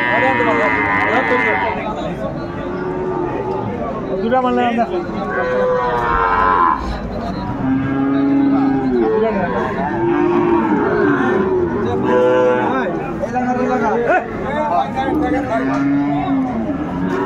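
Sahiwal bull calves at a busy cattle market moo repeatedly, loud and close, with long drawn-out calls recurring every few seconds over a constant crowd chatter and nearby talking.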